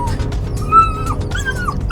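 Bernese Mountain Dog puppies whimper in the back of a car, thin high whines rising and falling over the low hum of the moving vehicle, close and fairly loud.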